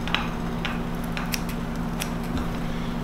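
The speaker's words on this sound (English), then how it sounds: "feather those butts with my scissors" Scissors make several short, crisp snips while trimming bucktail butts on a jig bulkhead deceiver fly at a fly-tying bench, quiet clicks spaced irregularly over a steady low hum.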